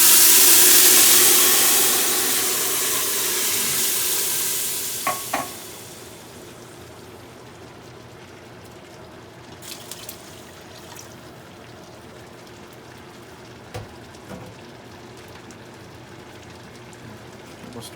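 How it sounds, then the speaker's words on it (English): Three cups of liquid poured into a pan of hot, lightly browned rice for Mexican rice, setting off a loud, steaming sizzle that fades over a few seconds, followed by quiet stirring and occasional clinks. "So now I'm going to add my liquid. Just 3 cups liquid."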